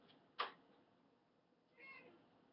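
A pet cat gives a single short, sharp meow near the start, with a softer, longer meow-like cry following about a second later in a quiet room.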